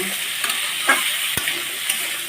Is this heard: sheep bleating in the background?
no